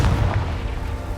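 Confringo explosive spell cast in Hogwarts Legacy, a heavy booming blast with a deep low rumble, loud and close, fading into a brief rolling tail.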